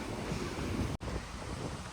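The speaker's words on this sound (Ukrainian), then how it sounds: "Вітер сьогодні і завтра, і післязавтра." Steady wind buffeting the microphone outdoors in a park in Palanga near the sea, a continuous broadband rush with a brief dropout near the middle.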